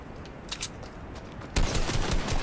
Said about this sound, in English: There's two people shooting at me.